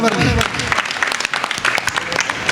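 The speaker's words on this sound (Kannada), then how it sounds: "ಅವ್ರಿಗೆ ನಿಮ್ದು ಜೋರಾದ ಚಪ್ಪಾಳೆ ಬರಲಿ" An audience at a devotional music gathering breaks into loud, dense applause that carries on steadily throughout.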